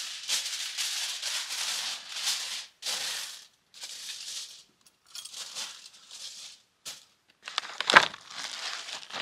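Aluminium foil crinkled and handled to wrap a sandwich for the grill while truck camping in high winds: close, bright crackling in repeated bursts separated by short pauses, one sharper crunch near the end.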